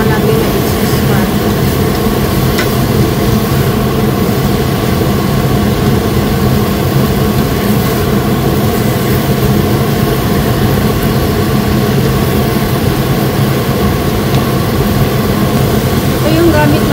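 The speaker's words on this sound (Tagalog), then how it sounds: "Kailangan natin na exhaust fan." Kitchen exhaust fan running during home cooking with a pressure cooker and air fryer, a steady broad whooshing hum throughout, with talk over it.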